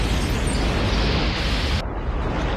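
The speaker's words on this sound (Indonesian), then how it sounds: "tepat ketika ledakan bom mendekati mereka" A dramatic bomb explosion near a collapsing building in a film scene sounds as a dense, loud, sustained roar of rumbling debris and blast noise that stays at full strength and then loses its upper hiss near the end.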